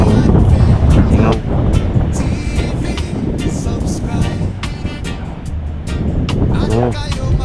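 Strong wind buffets the microphone outdoors in a steady rushing roar with gusty surges throughout.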